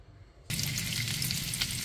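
Garlic, onion and ginger hit a hot pan with a sudden burst of loud frying, settling into a steady close sizzle, no voices.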